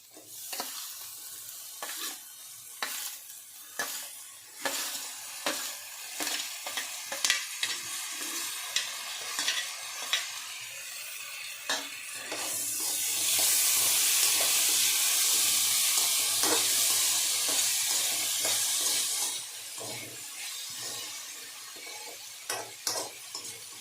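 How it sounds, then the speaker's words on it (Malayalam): Chopped egg fruit being stir-fried in a pan, with repeated scraping and tapping of a spatula that keeps a steady rhythm. Partway through, a louder sustained sizzle rises, then fades back to stirring. Close up, no voices. "ഈ അരിഞ്ഞ് വെച്ചേക്കണ മുട്ടപ്പഴം ഇട്ട് കൊടുക്കുക."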